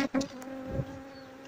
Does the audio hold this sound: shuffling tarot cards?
no